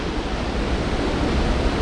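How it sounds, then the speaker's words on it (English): Niagara Falls roars from right at its mouth, a dense, loud, unbroken rumble of falling water with wind buffeting the microphone. "I can actually be right at the mouth of the waterfall."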